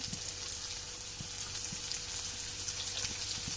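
Sliced onions fry in oil left from frying chicken, giving a steady, even sizzle with a few faint stirring taps, close and continuous with no talking.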